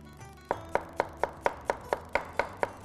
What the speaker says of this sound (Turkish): Ondan sonra tekrardan ince ince dilimliyoruz.